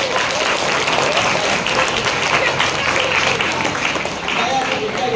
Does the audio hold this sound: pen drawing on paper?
no